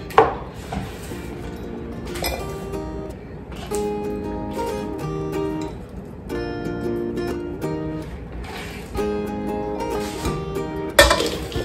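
Food chopped with a kitchen knife on a cutting board, several bursts of close, sharp knocking strokes separated by pauses, with faint rattles of dishes in between.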